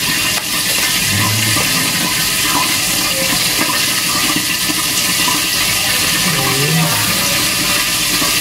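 Coconut milk is poured into chicken curry as a loud, continuous rushing splash of liquid close by, with faint bubbling and scattered clinks under it.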